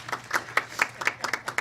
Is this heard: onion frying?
no